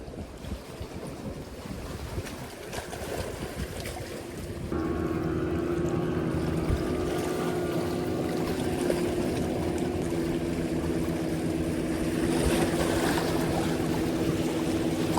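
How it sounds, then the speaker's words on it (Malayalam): Choppy sea waves wash around a small fishing boat out after red snapper, a constant rushing wash with wind buffeting the microphone, joined partway through by a steady low hum. "കുറച്ച് തിരയൊക്കെ ഉണ്ട്"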